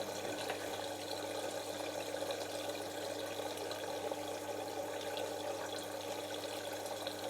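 Steady rush of water pouring into a Bosch Silence WFS4300 washing machine as it fills on a high water setting, a continuous close hiss and gurgle with no pauses throughout.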